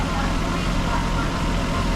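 Nissan Skyline R34 engine idling slightly high on cold start, a steady, even low rumble that runs throughout without change.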